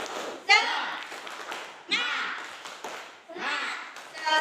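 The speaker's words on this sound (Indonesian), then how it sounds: "Coba tepuk semangat." An elementary school class claps out a rhythmic 'tepuk semangat' chant during a morning greeting, with sharp bursts of hand claps mixed with children's voices chanting in short groups.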